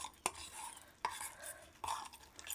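Fish roe being worked with salt by hand in a bowl, soft squelchy mixing broken by three sharper knocks against the dish, close and quiet with no talking.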